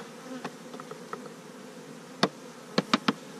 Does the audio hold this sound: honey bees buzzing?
yes